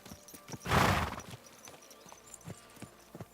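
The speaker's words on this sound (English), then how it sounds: "Let's get off the horse." Horse in the video game Kingdom Come Deliverance 2: a loud, breathy snort or whinny burst, followed by a few slow, soft hoof clops at a walking pace, close by.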